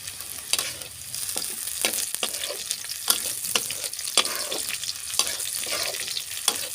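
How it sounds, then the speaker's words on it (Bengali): Bottle gourd peel fries with slit green chillies in a pan, giving a soft, steady sizzle broken by repeated scraping stirs of a spatula, close and fairly quiet. "দেখতে থাকুন কিভাবে ভাজি।"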